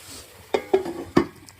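Eggplant slices frying in oil inside a rice cooker: three sharp clinks and scrapes from turning the pieces, each followed by a brief soft sizzle, close and moderately quiet with no talking.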